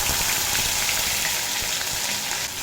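Spice paste hits hot oil with a bay leaf for a papaya and red lentil curry, giving a dense, steady, close frying hiss that holds level and even throughout.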